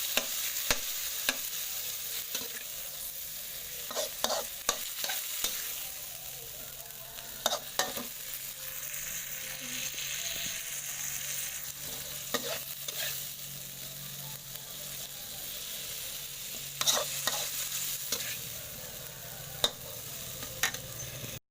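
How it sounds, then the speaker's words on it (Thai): Minced pork and sliced tomatoes stir-fried for a Thai chili pork relish, a steady close sizzle broken by repeated scraping strokes of a spatula against the pan, with no talking. "ใส่มะเขือเทศที่เราซอยไว้นะคะ ลงไปผัด จนมะเขือเทศ ละลายเป็นเนื้อเดียวกับหมูสับนะคะ"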